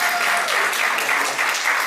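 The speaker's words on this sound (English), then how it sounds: "Can we have a round of applause for Kenesha?" Brief burst of steady applause from the audience at a Caribbean regional forum on freedom from slavery, dense clapping heard alone for a couple of seconds.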